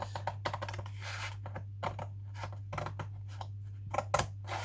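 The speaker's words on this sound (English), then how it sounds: "If you cut this on the score lines" Scissors snipping along the score lines of a manila file folder, a run of quick crisp cuts near and fairly quiet over a low steady hum, with no talk.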